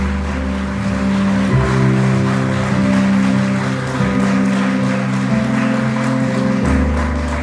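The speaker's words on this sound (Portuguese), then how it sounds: "Aplauda o Senhor se você crê" A church congregation applauding during a worship service, a dense wash of clapping over sustained low organ or keyboard tones, loud and continuous throughout.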